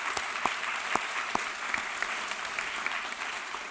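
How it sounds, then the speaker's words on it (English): A room full of people at a morning panel discussion claps steadily, a dense patter of applause with a few sharper individual claps standing out. "can we give one more round of applause for all of our panelists this morning"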